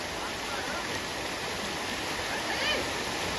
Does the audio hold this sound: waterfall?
yes